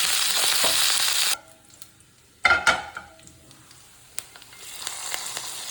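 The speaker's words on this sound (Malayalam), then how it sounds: "തേങ്ങാക്കൊത്ത്, അത് ഇളക്കി ചെറുതായിട്ടൊന്ന് മൂപ്പിച്ചെടുക്കാം" Loud frying sizzle of coconut pieces fills the start, then drops away. A spoon scrapes and stirs through the pan in short bursts before the hiss swells again.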